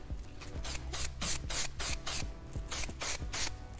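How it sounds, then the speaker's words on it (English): Texture spray misted onto curled hair in a series of about ten short, sharp hissing bursts in quick rhythm, close and fairly loud, with no talking. "I'm taking just a little texture spray"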